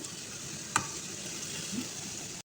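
Bitter gourd fries with tomato in a pan, giving a steady, close crackling sizzle with a single clink of a utensil partway through and a brief stir, ending abruptly; no one speaks.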